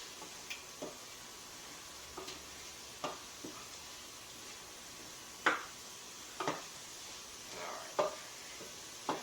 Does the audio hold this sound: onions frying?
yes